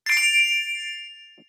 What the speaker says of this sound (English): Now let's ring the bell.